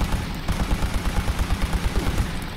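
Rapid automatic gunfire from a heavy weapon in Fallout 76 Steel Reign, a steady run of repeated low booming shots at close range with no talking.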